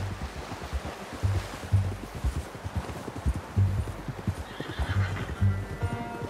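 Horse in the video game Red Dead Redemption 2, hooves clip-clopping in a steady walking rhythm with a brief whinny near the end, over a soft wave-like ambient wash.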